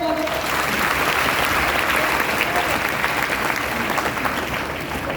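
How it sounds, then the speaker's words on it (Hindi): An assembled audience applauds a speaker at a DXN business meeting, producing a thick, continuous patter of clapping that stays steady and fairly loud, tapering slightly near the end. "तो जोरदार तालियां इनके लिए बजाइए"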